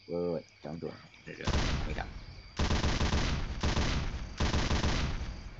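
Heavy machine gun in Left 4 Dead 2 firing in three long sustained bursts, loud and close, each a dense roaring stream of rounds with short gaps between; a voice speaks briefly before the firing begins.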